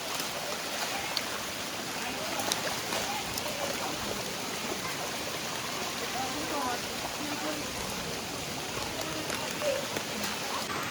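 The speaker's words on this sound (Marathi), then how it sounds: "आणि पाऊस तर खूप चालू आहे." Heavy rain pours steadily over a forest on a jungle trek, a dense, unbroken hiss of drops lasting throughout at constant loudness.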